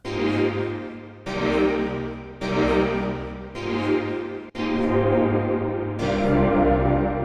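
Short musical chords repeat in bursts, each trailing off in a washy reverberant tail before the next one starts.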